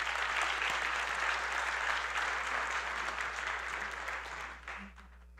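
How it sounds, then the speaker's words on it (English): Audience applause fills a PechaKucha Night event hall, steady dense clapping throughout that thins and fades near the end. "Let's give them all a round of applause."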